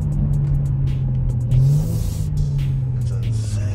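Kia Stinger sedan with modifications driving on a road, its steady low engine drone and rumble holding throughout with a brief rise in pitch partway through as it accelerates, heard from inside the cabin with no talk.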